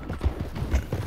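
Horse galloping in a video game, with rhythmic clip-clop hoofbeats in quick repeating pairs, fairly close and steady throughout with no talk over it.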